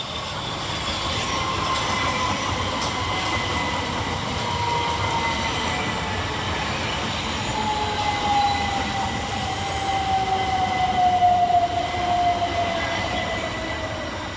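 Two coupled Southern Railway Class 377 electric trains pull into Burgess Hill station with a steady rolling rumble and a thin rising wheel squeal partway through, loud and continuous throughout.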